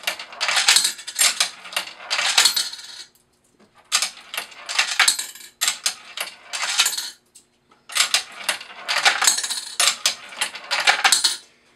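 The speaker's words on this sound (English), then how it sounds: "From here, you'll enter exactly 2 nickels, 2 dimes, 2 quarters, and 2 dollar coins" Nickels dropping one by one into a Mars/MEI TRC series coin changer during calibration, giving bright metallic clinks and rattles in three spaced bursts, close and clear with no talking.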